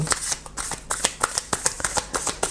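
Tarot cards being handled, drawn and laid down, a close run of quick papery flicks and slaps in an uneven rhythm, fairly loud.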